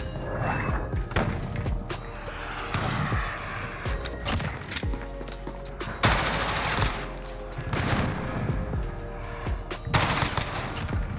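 MP5 gunfire in the shooter game Call of Duty Modern Warfare: rapid bursts of automatic fire and sharp single shots over busy game noise, loud and close, with intermittent bangs throughout.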